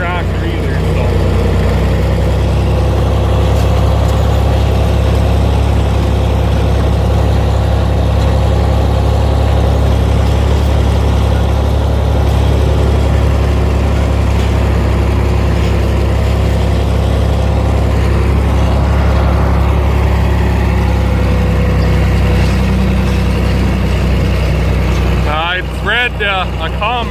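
A John Deere 5020 tractor, non-turbo, harrowing wheat stubble, its engine droning loud and steady at a low rumble throughout, with brief extra clatter near the end.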